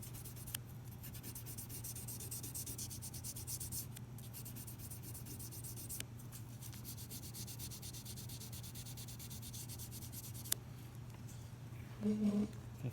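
Fine-grit sandpaper around 1000 grit rubs steadily along guitar frets during fret levelling, a soft continuous scratchy hiss with a brief muffled bump near the end.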